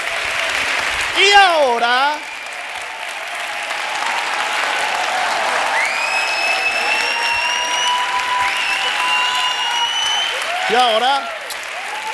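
Audience applause fills a conference hall during a talk on the BAPNE neuromotricity method, a steady dense clatter lasting throughout, with a voice calling out over it near the start and again at the end.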